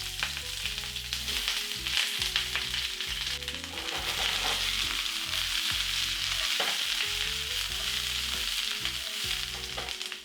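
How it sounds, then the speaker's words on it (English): Onions and peppers sautéing in olive oil in a very hot pan for a curry beef stir-fry, a loud continuous sizzle and crackle with stirring scrapes, accompanied by background music. "Quickly saute the onions and the peppers."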